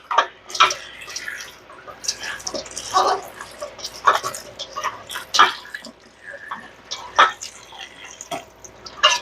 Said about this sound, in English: Now we've got our greens rinsing.